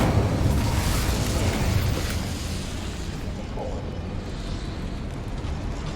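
An Incendio fire spell cast in Hogwarts Legacy bursts out loudly at the start and settles into a sustained, roaring, crackling wash of fire.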